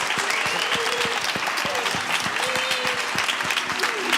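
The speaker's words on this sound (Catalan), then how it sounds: "un fort aplaudiment" Sustained applause from a concert audience just before a band takes the stage, dense and steady clapping throughout with cheering voices and a few whistles mixed in.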